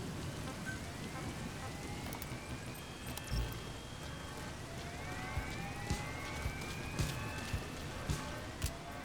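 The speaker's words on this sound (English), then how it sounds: "can I not hear a fucking siren for an hour?" A siren in Metal Gear Solid V: The Phantom Pain rises and falls repeatedly over a steady rain-like noise, with occasional thumps and a player's voice talking over it.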